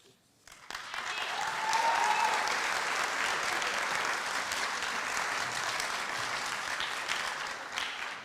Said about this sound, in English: Let's give another round of applause for all our candidates.